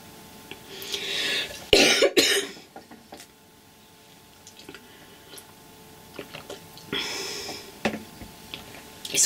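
Several bursts of harsh coughing, one strong burst near the start and another later, with quieter rustling and small ticks in between during an indoor cross-stitch chat.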